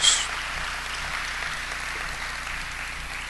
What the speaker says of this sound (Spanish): Démosle ese fuerte aplauso a Jesús.